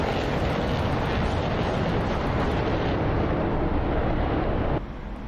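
Chaff and flares dispensed from an Su-25T attack jet in a flight combat game, a loud sustained roaring hiss that holds steady for nearly five seconds, then drops suddenly to a quieter rumble.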